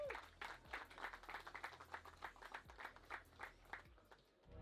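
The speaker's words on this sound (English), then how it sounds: "Okay, please applause for the team Krutoy Lounge from Poland." Small audience at a hookah battle competition claps for a lounge team from Poland, distinct individual claps in a quick uneven patter, fairly faint and fading near the end.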